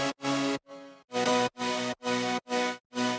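Layered future house drop chords stacking synths, pianos and octave-up strings, hit in a steady rhythm of loud, full sustained stabs with short gaps between them, heard alone.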